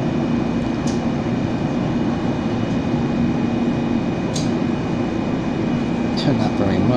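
A Gold Line light rail train rolls from Folsom toward Sacramento, heard from inside the car as a steady, loud broadband rumble with a constant hum and a few faint squeaks, with no break throughout.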